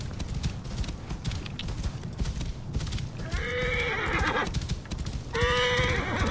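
Horse in the game Assassin's Creed Origins, hooves clip-clopping steadily throughout, then two loud shrill neighs, one midway and one near the end.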